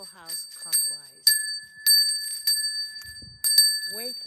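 Repeated strikes of a small temple bell rung through the rooms of a house, each one a sharp bright ping with a long shimmering ring, close by and interleaved with speech.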